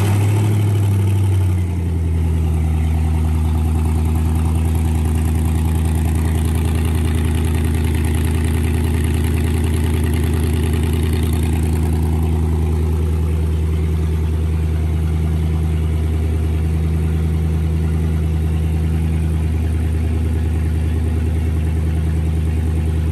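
An L87 engine wired to a Speartech standalone harness with a 2020 Silverado E90 computer and 10L90 transmission cranks briefly, catches and settles into a steady, close idle. The idle stays deep and even to the end, with no talking.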